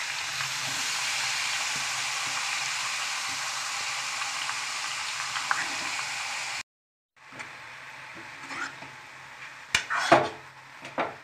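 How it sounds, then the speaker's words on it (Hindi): Grated carrots for gajar ka halwa drop into hot ghee in a pan, a steady soft hiss of sizzling that cuts out abruptly, then returns fainter with a few clinks and scrapes of a utensil against the pan. "घी गरम होने पे डाल दें इसमें गाजर।"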